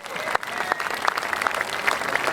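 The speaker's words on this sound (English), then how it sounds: "Give him a round of applause" Spectators at a long drive golf event applaud a 369-yard drive, a dense round of clapping with crowd noise and scattered sharp claps close by.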